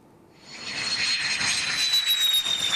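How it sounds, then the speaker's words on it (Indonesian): A reconditioned F-16 C/D fighter jet arrives at Iswahyudi air base in Madiun, East Java, its engine roar swelling in after a quiet start into a loud, sustained whine with a high, slowly falling tone. "pesawat F-16 model CD akhirnya tiba di Lanut Iswahyudi, Madiun, Jawa Timur"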